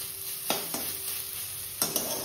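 Leafy greens (saag) fry in a pan in a home kitchen, giving a steady hiss of sizzling broken by several sharp scrapes and knocks of a spatula stirring them.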